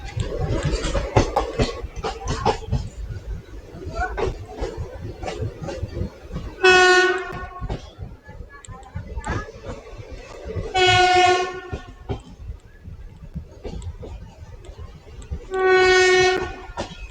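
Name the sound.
passenger train departing station, Rajkot–Veraval line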